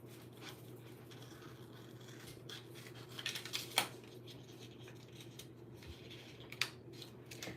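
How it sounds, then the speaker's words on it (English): Scissors snipping through paper for a scrapbook layout, faint close cutting scrapes and a few sharper snips over a steady low room hum. "And then we get to cut this piece off."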